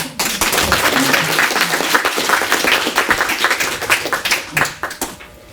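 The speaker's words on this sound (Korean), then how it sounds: "네, 많은 박수." An audience at a forum session applauds an award co-recipient, steady clapping that thins into scattered individual claps toward the end.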